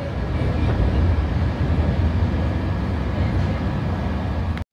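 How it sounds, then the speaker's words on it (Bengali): The 12837 Howrah Puri Superfast Express running just after leaving Howrah station, heard as a loud, steady low rumble and roar throughout with no speech. "একদম কারেক্ট টাইমে হাওড়া স্টেশন থেকে ডিপার্ট করলো আমাদের এই 12837 হাওড়া পুরী সুপারফাস্ট এক্সপ্রেস।"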